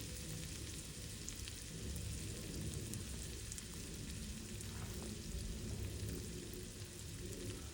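Chopped onions fry in Goan-style dal in a pot, making a soft, steady sizzle and low bubbling heard close but quiet, continuous with no speech.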